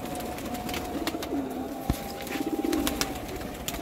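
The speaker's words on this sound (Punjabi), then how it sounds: "ਕਾਲੇ ਮੂੰਹ ਵਾਲੇ ਕਬੂਤਰ ਉਹ ਹੀ ਜੇ ਸਾਡੇ ਕੋਲ" Sialkoti flying pigeons cooing close by in a loft, soft repeated low coos rising and falling over steady background noise and faint rustling.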